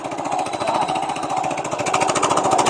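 A kuliglig hand tractor engine runs loud and close, a fast steady thumping chug with no break, carrying a boat.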